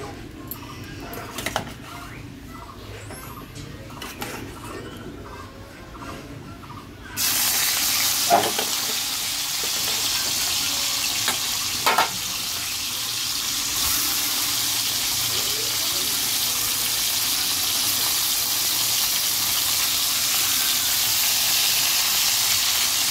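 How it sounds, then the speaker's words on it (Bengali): Fish frying in oil in a home kitchen, quiet at first with small clatters, then a loud, steady hiss and sizzle that bursts in and continues close up to the end. "এবার আমি মাছগুলো ভেজে নেবো।"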